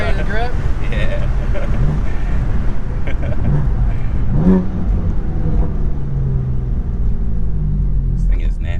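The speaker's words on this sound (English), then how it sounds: "Well, I'll do a little bit of driving then." A modified BMW F80 M3 making about 500 wheel horsepower accelerates on the road, its loud engine rumbling and revving steadily throughout with road noise, heard from inside the car as people talk over it.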